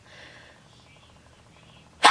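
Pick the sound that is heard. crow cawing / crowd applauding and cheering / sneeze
sneeze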